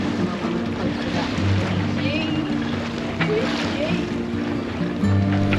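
An Ultimate 18 sailboat named Lady Emma underway, with steady water wash and wind against the hull, a low continuous rush with occasional soft splashes.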